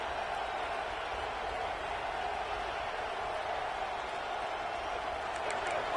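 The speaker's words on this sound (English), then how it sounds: "Decibels rising as the crowd gets behind this defense on 3rd down." A football stadium crowd at an Ohio State vs Clemson game roars steadily on third down, a dense sustained wall of cheering noise at even loudness throughout.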